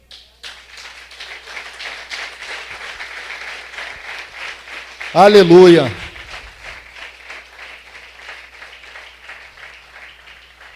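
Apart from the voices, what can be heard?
church congregation applause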